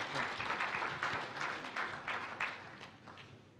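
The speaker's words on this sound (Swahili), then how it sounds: "Makofi tafadhali." Applause from an audience at a national press freedom day ceremony, a continuous patter of many hands clapping at moderate distance that slowly thins toward the end.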